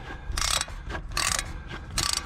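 A ratchet works a bolt loose on the front wheel bearing of an Audi A6 C6 Allroad, three quick bursts of close, rapid clicking separated by short pauses, with no voices.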